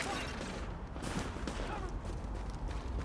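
Sustained gunfire in the video game The Division, a dense rattling fusillade of automatic shots heard at a distance under a loud, constant background wash.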